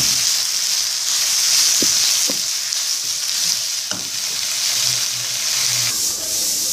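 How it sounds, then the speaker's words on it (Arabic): A tuna and onion quiche filling is stirred in a hot pan, with a loud, steady sizzle and a few sharp knocks and scrapes from the utensil against the pan. "غادي نخلط هادشي حتى ينسجموا لينا صافي"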